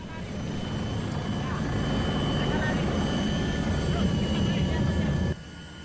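Police helicopter from the Bangka Belitung regional police, heard as a steady, broad rotor and engine drone that holds at an even level for about five seconds before cutting down abruptly near the end.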